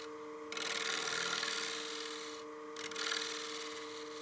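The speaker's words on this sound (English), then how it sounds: "we'll just scrape the face of that piece just to clean up those fibers and true it up" Turning tool scraping the face of a wooden bowl spinning on a lathe, a close, steady rasping scrape in two passes over a constant motor hum, with no talk.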